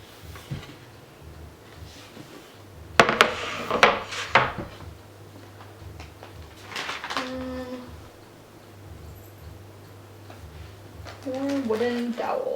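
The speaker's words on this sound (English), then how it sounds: "More wooden dowels." Wooden dowels clatter and knock together in a few sharp bursts during a craft room cleanup, followed by quieter rubbing and handling sounds, with someone speaking briefly in between.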